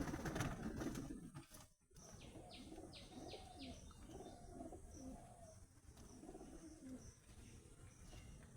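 Pigeons cooing inside a loft, a repeated rhythmic series of soft throaty coos close by over a constant background hum, with a brief rustle near the start.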